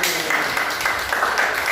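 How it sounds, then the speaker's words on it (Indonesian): Short burst of classroom applause for a student group, a cluster of clapping hands at close range, fairly steady, with some voices mixed in. "tepuk tangan untuk kelompok satu"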